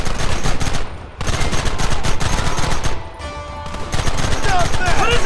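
Heavy gunfire from the Red Dead Redemption video game: rapid, dense volleys of shots with a brief lull between bursts, loud and sustained over a noisy battle background.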